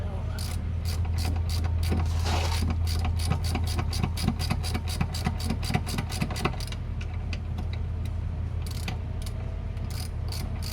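Ratchet wrench on an extension tightening outdrive bolts while replacing a Volvo DPSM steering seal, giving a long run of rapid, evenly spaced clicks close by, pausing briefly and then resuming over a low steady hum.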